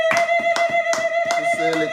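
A church congregation at a Sunday worship service claps in a quick steady rhythm, sharp hand claps over a sustained keyboard tone.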